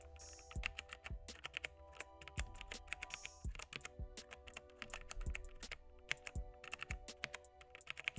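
Rapid clacky keystrokes from a GameStop brand mechanical keyboard fitted with brown switches, typed in steady bursts at close range with sharp, springy key returns and no talking.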